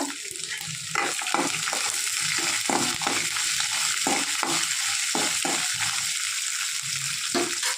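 Small onions and black urad dal sautéing with salt in a pan, giving a steady close sizzle with repeated scraping stirs in an irregular rhythm.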